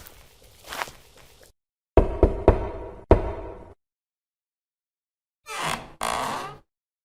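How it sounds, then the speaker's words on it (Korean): Three sharp, close knocks strike the front gate of a house in quick succession, with softer shuffling sounds before and after. "강 부자 집에 대문을 두드렸습니다"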